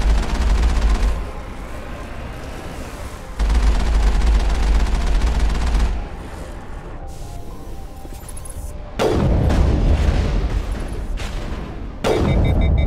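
Sustained automatic gunfire in the video game Mass Effect, with loud heavy bursts that alternate with quieter stretches of distant shooting and battle noise.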